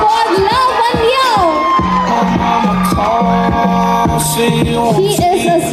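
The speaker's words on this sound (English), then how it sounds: "Come on everyone, a big round of applause for Lavanya." An office crowd at an annual day celebration cheers an Employee of the Year award winner, with loud whoops and shouts layered over a dense roar and voices, continuous and close.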